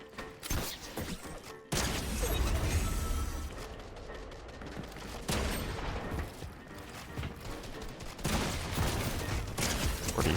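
Rapid shotgun blasts and gunfire in a Fortnite match, dense and loud bursts in several clusters amid game effects, with no talk over it.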